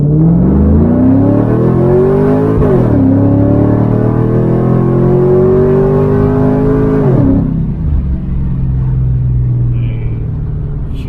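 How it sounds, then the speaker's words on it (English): A 2002 Camaro SS V8 revs hard and loud, rising steadily, dipping briefly and climbing again until it bumps the rev limiter, then drops back to a settled rumble near the end. "Just barely touched the rev limiter that time"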